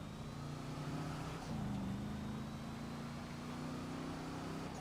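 Engine of a Vapid Chino, a cheap turbo car modelled on a 1971 Lincoln Continental Mark III, in GTA Online, idling with a steady low rumble and a brief rev partway through.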